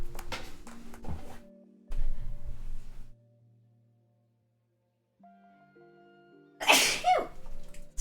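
A loud, close single sneeze bursts out near the end after a quiet pause, preceded by indoor rustling and faint tones.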